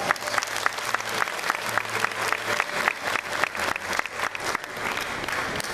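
Audience clapping steadily after a choir solo at a community choir's summer concert, dense and sustained with no voices over it.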